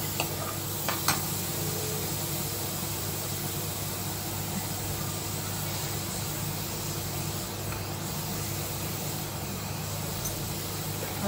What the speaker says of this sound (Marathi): हळद चांगली मिक्स करून घ्यायची आहे।